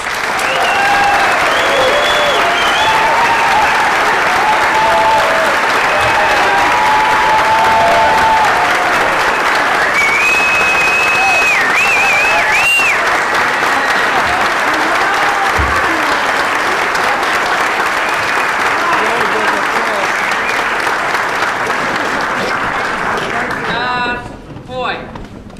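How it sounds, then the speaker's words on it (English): A large indoor audience at a Virginia political club event applauds Laura Ingraham in sustained, loud, dense clapping with cheering that fills the room for about twenty-four seconds before tapering off abruptly. "Join me in giving her a great big thanks of applause"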